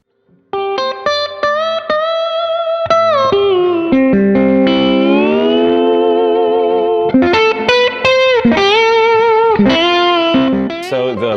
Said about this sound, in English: I wanted it to sound a lot like the reverb in my other amplifiers